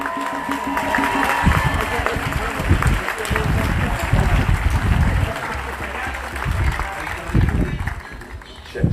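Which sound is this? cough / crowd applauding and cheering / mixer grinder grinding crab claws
crowd applauding and cheering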